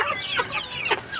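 Backyard chickens on a small Philippine home farm clucking close by, a few short squawky calls rising over a faint hum.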